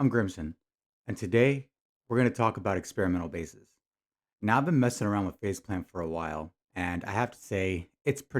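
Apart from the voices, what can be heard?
No distinct noise like a dog, phone or traffic.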